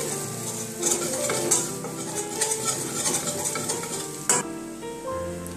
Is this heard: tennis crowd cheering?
no